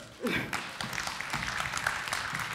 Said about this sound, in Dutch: Maar eerst even applaus voor Nancy.